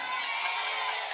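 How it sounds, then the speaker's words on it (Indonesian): A crowd at a live comedic religious talk in Winongan, Pasuruan, breaks into dense applause, a steady wash of many hands without pause. "Tepuk tangan."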